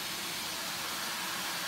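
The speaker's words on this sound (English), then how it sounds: "The steam coming out. Pretty good amount of steam on that unit." A steady, broad hiss of steam escaping continuously from a shower steam generator at an even level, with no pauses or changes.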